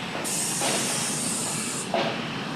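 A BRT bus rapid transit vehicle passes a busy intersection in Thailand, giving a steady broadband hiss of motion and traffic noise that swells and fades over a couple of seconds.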